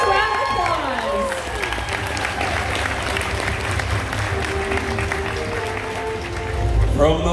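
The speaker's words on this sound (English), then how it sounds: "Give this girl a huge round of applause." Sustained audience applause and cheering from a crowd at a Fan Expo cosplay competition, steady and dense throughout, with an announcer's voice briefly heard at the start.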